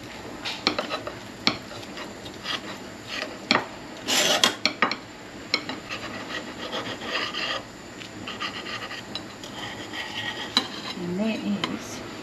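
A big knife saws through a bacon sandwich in a kitchen, giving rough rasping strokes in uneven bursts with one louder scraping stretch, fairly quiet and close.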